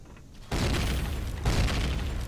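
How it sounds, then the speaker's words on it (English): Explosion in the center of a large room in the game Empyrion Galactic Survival: a sudden loud broadband blast after a quiet moment, followed by a second heavy boom about a second later, with rumbling debris noise throughout. "It was an explosion in the center of the room."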